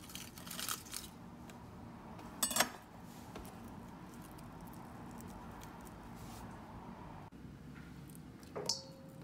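Garlic cloves being crushed on a kitchen surface, faint and mostly quiet with a few short crunching, squishing presses and a soft clink near the end, heard alone without speech.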